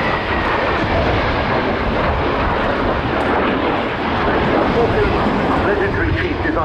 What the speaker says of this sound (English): Spanish Navy EAV-8B representing the Harrier, running in from the right with the F-35B.